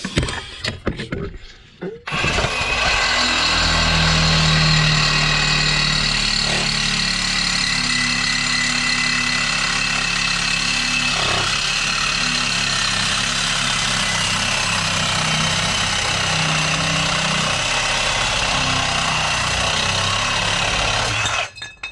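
A 1975 Plymouth Duster's Hemi engine runs after a carburetor rebuild, idling loud and steady with a rough, throbbing rumble that continues unbroken for about twenty seconds after a brief starting clatter.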